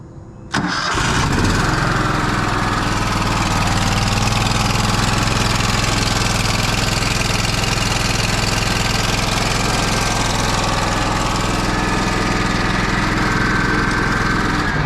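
A Kohler 20hp engine on an Exmark Lazer mower cranks and catches, then idles loudly and close with a steady, rough, throbbing rumble that runs unbroken for the rest of the stretch.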